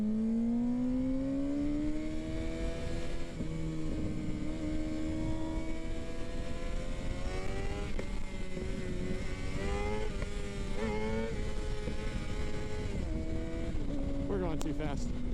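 A motorcycle engine climbs steadily in pitch as the rider accelerates into a power wheelie, loud and continuous over heavy wind rush, with a voice occasionally heard beneath the roar.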